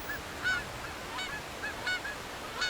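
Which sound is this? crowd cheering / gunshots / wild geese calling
wild geese calling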